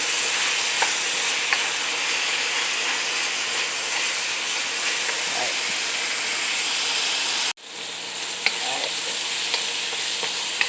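Squash and spinach sauté in a hot, smoky pan, giving a loud, steady sizzle that runs almost without a break, with faint stirring ticks and a brief cut partway through.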